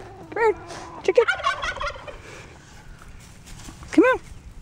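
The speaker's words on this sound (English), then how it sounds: "Come here, chicken." Poultry calls ring out close by in a few short bursts, with rising throaty, gobbling-like clucks near the start and another near the end over a quiet outdoor background, while a person speaks briefly.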